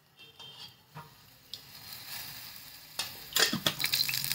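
Oil heats in a pan for tempering, with quiet, sparse ticks and faint stirring scrapes that build into louder crackling sizzle near the end.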